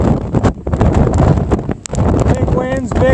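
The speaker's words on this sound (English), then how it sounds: "Big winds, big water," Strong wind gusts of 60 miles an hour buffet the microphone at Crystal Beach, a loud, rough roar that rises and falls under someone talking close by.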